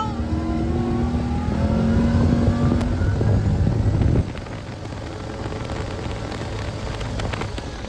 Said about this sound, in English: Big raindrops are coming.